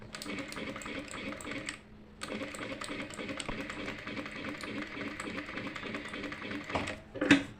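A tailoring sewing machine runs zigzag stitching practice lines, a steady mechanical rattle of rapid stitches that pauses briefly partway through, then resumes, ending with a sharper clack.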